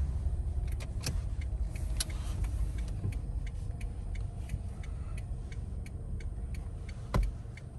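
A car's turn signal ticks in a steady, even rhythm inside the cabin over a low engine and road hum, as the driver prepares to parallel park on a Mississauga street.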